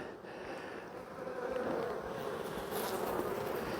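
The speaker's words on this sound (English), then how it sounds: "Got good population of bees here" Dense, steady buzzing of many honey bees at a hive close by, a continuous droning hum with no pauses.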